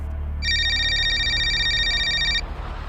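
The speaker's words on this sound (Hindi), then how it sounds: "तभी रोहन के फोन की घंटी बजती है" A mobile phone rings with a bright electronic ringtone held steadily for about two seconds, near and clear over a low background hum, with no one talking.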